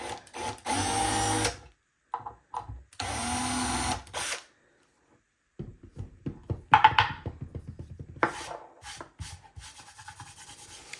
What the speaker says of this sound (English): I'm going to drill a couple little holes.